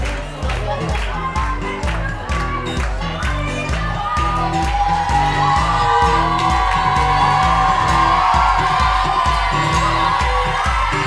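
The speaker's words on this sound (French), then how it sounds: "Alors, fauteuil sous vos applaudissements, merci." Audience at a national improv theatre trophy final clapping and cheering with whoops, loud and sustained throughout, with the rhythm of the clapping clear beneath the crowd noise.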